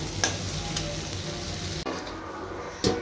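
Paneer pieces fry in a pan with chilli paneer spice mix, a continuous close hiss and sizzle broken by a few spatula scrapes.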